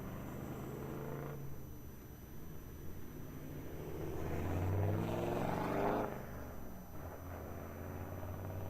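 A Qantas airliner departing Melbourne Airport, bound for Sydney, with a steady distant engine roar that swells and peaks midway before settling back to a continuous rumble, no talking.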